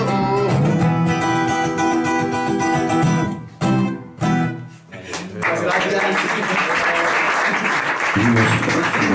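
An audience applauds after a live song at a singer-songwriter and poetry evening, the clapping rising after the music breaks off and continuing, with a voice speaking over it.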